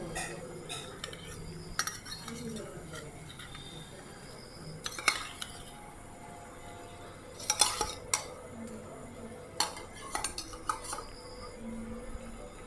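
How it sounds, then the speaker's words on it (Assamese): Fish pieces stirred in a pot of water while cooking, a spoon clinking and scraping against the metal vessel in scattered bursts over quiet background. "মাছ কেইটুকুৰা দি আমি এইখিনি অলপমান এনেকৈ লৰাই দিম"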